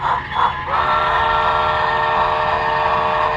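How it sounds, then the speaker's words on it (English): A model B&O P8 steam locomotive whistle blows loud and steady after a brief sputter, a sustained chord-like tone holding for several seconds. "And let's hear that whistle"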